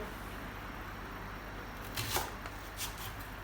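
A knife cuts onions into thick rings on a board in a rural home kitchen; after a quiet start, a few close, crisp chopping strokes arrive in a short irregular burst.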